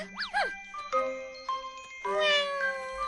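A cat lets out a few close, rising and falling meows, one after another, with a light jingling chime ringing in the background.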